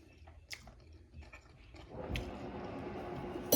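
Someone chews a bite of homemade tuna salad, soft moist chewing and a few small bites close up and quiet, followed by a louder rustling shuffle near the end.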